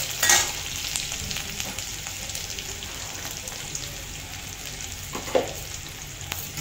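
Small onions sizzle in a pan while being stirred for an Odia chickpea dalema, a steady broadband frying hiss with a couple of sharp spoon scrapes near the start and end, close and moderately loud, no talking.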